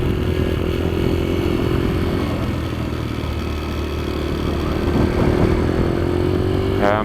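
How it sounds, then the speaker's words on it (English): Highly modified Kayo MR125 pit bike engine warming up at a kart track, a loud, steady droning run with slight surging in pitch and a brief rise near the end; no talking. "This motor's taking a little while to warm up here. It's kind of surging."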